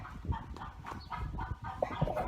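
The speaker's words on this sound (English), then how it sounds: "The chickens were going crazy." Agitated chickens clucking and squawking in short, irregular bursts, fairly close and moderately loud against a busy outdoor background.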